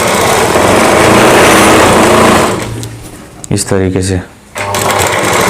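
A sewing machine stitching satin fabric pieces for a Rajputi suit whirs steadily and close for a couple of seconds, then stops while someone speaks, and starts running again at the end.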